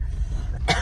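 A single short cough bursts out near the end after a quiet stretch, close and moderately loud, from a person who has just been speaking.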